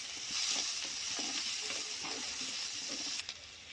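Onions sizzle steadily in a hot pan while being fried for a potato and ridge gourd curry, with an even, continuous hiss and faint stirring, without any talk.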